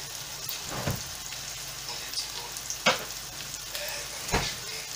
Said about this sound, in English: So now in the mix I'm going to add some garlic and ginger paste.